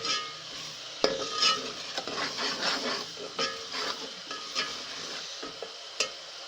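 Masala with chili and turmeric stir-fried in a pan, a soft continuous sizzle with irregular spatula scrapes and clicks against the metal, close and fairly quiet.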